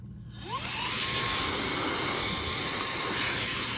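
A Meco handheld vacuum switches on and spins up within the first half second, then runs as a steady, loud, high-pitched whine and hiss with no one talking.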